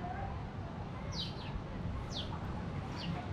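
Small birds chirp in short, faint bursts over a steady outdoor hum in a green area of Senegal, with no clucking clearly standing out.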